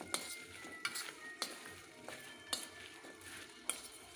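A spoon stirs and mixes ingredients in a metal bowl while Assamese pickle is being made, giving repeated light clinks and scraping taps at an uneven rhythm, close and fairly quiet.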